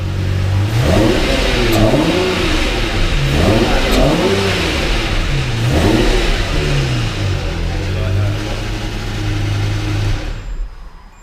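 A Lamborghini's mid-mounted engine revs repeatedly, rising and falling in loud surges before settling into a steady idle, close by and dominant.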